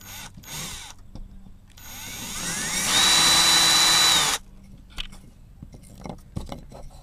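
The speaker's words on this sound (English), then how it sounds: "I just have to use a regular old drill to do this." A power drill whines steadily for about a second and a half, loud and close, boring into a wooden spatula handle, between quieter scraping and handling noises.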